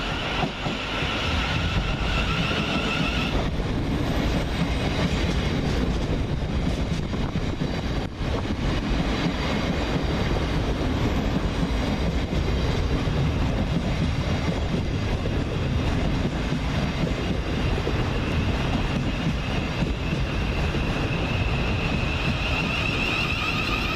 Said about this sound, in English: Next to arrive at the station is 700-153, working the 1623 Govia Thameslink service from Peterborough to Horsham.